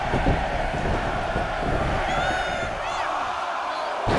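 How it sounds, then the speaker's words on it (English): A large crowd in the video game WWE 2K23 roars and chants loudly in unison during a 30-man Royal Rumble, a dense wall of voices with whoops rising over it as it counts down. "Listen to this crowd count the next one in"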